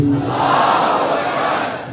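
A congregation at a Muharram majlis roars a loud, unified chant of Allahu Akbar in reply to the call of Naara-e-Takbeer, a full, close burst of many voices lasting about two seconds.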